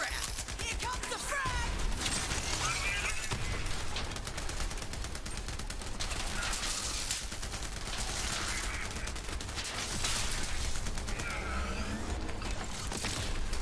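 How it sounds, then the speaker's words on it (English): Frag grenade blast and chaotic gunfire in the Borderlands 3 video game, a dense, continuous barrage of shots and explosions with no pauses, loud and busy throughout. "Here comes the frag!"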